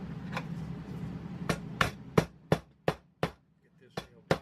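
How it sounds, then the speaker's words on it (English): Hammering nails into a wooden aquarium light fixture: a faint early knock, then a steady series of about ten sharp, close, evenly spaced hammer blows. "get this nailed together."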